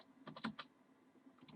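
Soft, quick keystrokes on a computer keyboard, a short irregular burst of clicks with a brief pause, quiet and close with no talking.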